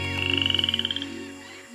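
Poison dart frogs call in a rapid series of about a dozen bright, clicking chirps lasting around a second, close and fairly loud over a steady background hum, then trailing off.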